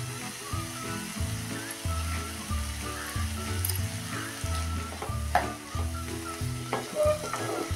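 Cauliflower keema is stir-fried in a pan, a loud continuous sizzle with a regular scraping rhythm of the spatula pushing through it, close up and free of speech.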